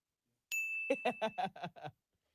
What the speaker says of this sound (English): I had to search for the bell.